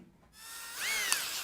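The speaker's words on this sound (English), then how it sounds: "Switching up to the stepped bit." A power drill spins up with a stepped bit and bores a hole in a ramp truck's bodywork, a rising whine that steadies into a loud, close grinding tone and then winds down.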